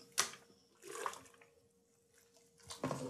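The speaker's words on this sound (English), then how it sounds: "So now I'm going to add some sparge water, just enough to bring the level up about 1 inch or so above the grain bed" Sparge water poured onto a grain bed while home brewing a pale ale, heard as faint, intermittent splashing bursts with quiet gaps between them.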